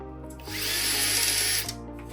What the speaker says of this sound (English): Drill in lightly with light pressure.